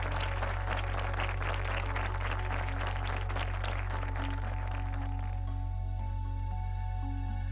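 Sustained crowd applause fills an annual convocation hall over a steady low hum, thinning out and fading toward the end.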